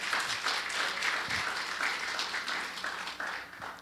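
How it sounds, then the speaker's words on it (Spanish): A church congregation applauding loudly, dense sustained clapping from many hands filling the room, steady for several seconds before tapering slightly. "Si va a aplaudírselo fuerte al Señor."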